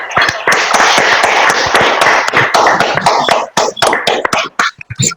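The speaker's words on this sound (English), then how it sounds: "A big applause." Meeting participants clap over unmuted microphones, a loud, uneven patter of many overlapping hand claps that thins into scattered sharp individual claps toward the end.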